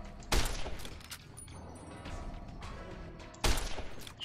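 Gunfire in the video game Fallout: New Vegas, two loud, close blasts about three seconds apart with a rumbling tail and game ambience between them.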